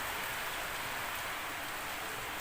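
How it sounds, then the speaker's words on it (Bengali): Heavy rain falls outside, heard as a steady, even hiss of downpour that continues without a break, fairly soft and distant, with no voices over it. "বাইরে দেখো কি বৃষ্টি পড়ছে প্রচণ্ড বৃষ্টি পড়ছে বাইরে"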